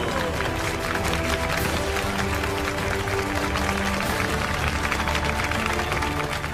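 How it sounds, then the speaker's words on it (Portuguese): An audience applauds a magician in a film scene, with dense, steady clapping over crowd noise and a low murmur of voices beneath it. "aplausos para o mestre das ilusões e mistérios, Dario!"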